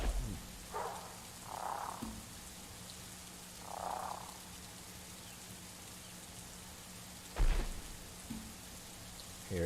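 Rain pours steadily in The Isle video game, a constant dense hiss of drops on the ground, with a few soft croaking calls and a sharp thud rising out of the downpour.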